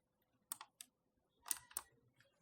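Computer keyboard keys pressed to enter the Ctrl M shortcut, a few sharp close clicks in two small clusters, quiet and crisp against near silence.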